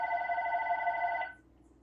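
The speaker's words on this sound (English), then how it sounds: "The phone's ringing, but I'm going to..." A telephone bell rings steadily and loudly for over a second, then cuts off, leaving a quiet room tone with no talk.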